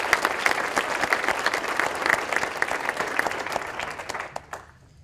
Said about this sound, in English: Please join me in a round of applause for everyone who made today's program successful.